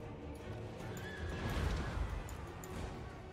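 A horse in a video game neighs, a quiet, drawn-out whinny over a soft background of game sound effects and faint thuds.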